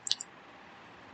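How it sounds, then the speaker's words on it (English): A quick double mouse click, crisp and close, followed by quiet room tone. "you have to click on this enable"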